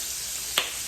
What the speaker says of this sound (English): I am frying on my skillet.